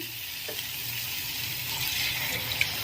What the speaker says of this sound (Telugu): ఇప్పుడు ఇందులోకి మనం కొంచెం వాటర్ని యాడ్ చేసుకుందాము